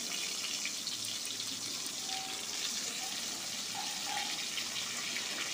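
Pointed gourd frying in hot mustard oil in a wok, a steady, close hiss and sizzle that holds at an even level throughout with no talk.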